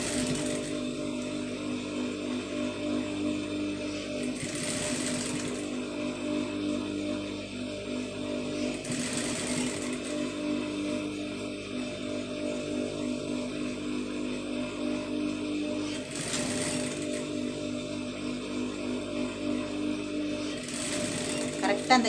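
A sewing machine stitches fabric piping in a continuous, fast, even mechanical chatter, fairly quiet, with brief louder bursts at intervals.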